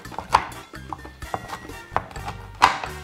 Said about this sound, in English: now I've got this frozen or almost frozen piece of coconut oil